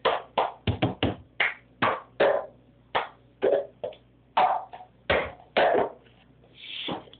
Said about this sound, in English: this is how you do the cup sound